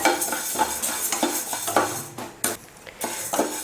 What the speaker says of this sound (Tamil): உளுந்தையும் பொன்னிறமாக வறுத்துக்கலாம். உளுந்து வறுக்கிறதுக்கும் எண்ணெய் தேவையில்லை.